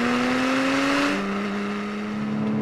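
Porsche Cayman sports car engine under throttle, a loud continuous tone that rises in pitch and then settles into a steady drone, heard close with no talk over it.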